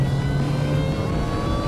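A supercharged Mini Cooper John Cooper Works engine pulling in sixth gear, a steady mid-pitched drone heard from inside the car, with road hum and a constant whine, fairly loud and without talk.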